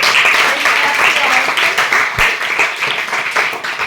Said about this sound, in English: Claps for all of you.